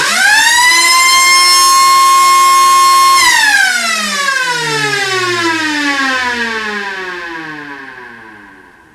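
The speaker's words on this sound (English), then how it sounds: "Here's how loud the siren is in decibels." A new mini siren wails loudly and steadily, holding one high tone before dropping into a long descending wind-down that fades out at the end.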